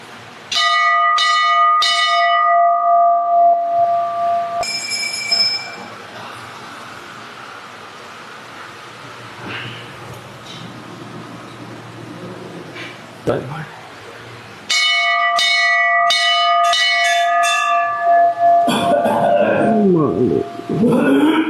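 Repeated bell strikes ring out in two loud bursts with a quieter stretch between, each strike leaving bright sustained tones; a crowd murmurs near the end, at a Diwali worship gathering.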